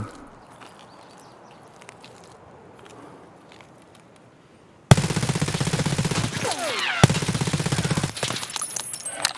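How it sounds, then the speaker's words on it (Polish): Quiet ambient background with faint taps, then a sudden burst of dense, rapid MP7 submachine gun fire in the game Escape from Tarkov that continues loudly to the end. "Zobaczcie ile strzałów musiał przyjąć koleś"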